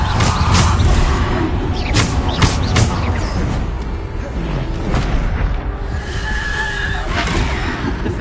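Bombarda spell explosions in a Hogwarts wizarding video game, heavy booming blasts and rumbling impacts layered over dense, loud game noise throughout.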